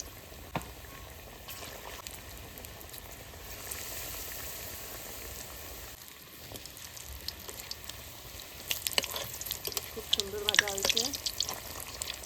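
Evening snacks deep-frying in a pan, a faint steady sizzle and bubbling of hot oil throughout, with louder clatter and stirring near the end and no talk over it.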